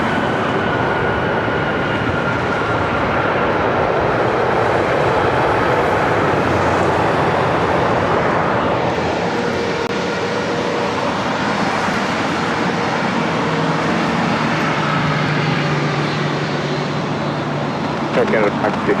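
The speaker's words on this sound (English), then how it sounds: "This is Air Canada 556 coming in from Vancouver on a MAX 8." Air Canada Boeing 737 MAX 8 landing at LAX, a sustained broad jet rumble and whine with shifting tone as the airliner passes, mixed with voices talking throughout.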